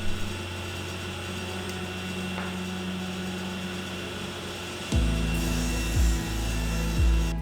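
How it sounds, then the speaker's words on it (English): Alder plywood being cut on an Incra sled with a saw: a steady, loud machine hum with rough cutting noise, rising in level partway through as the blade bites, with no talking. "Incra makes a fantastic sled, ensuring consistent cuts."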